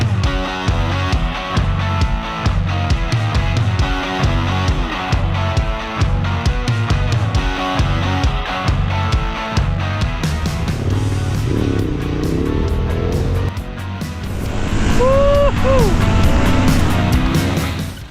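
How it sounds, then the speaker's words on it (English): A V-twin motorcycle engine on a big street bike rumbles steadily with a pulsing beat while riding, then revs up louder toward the end; wind noise runs underneath. "The V-twin engine is pulling very smooth."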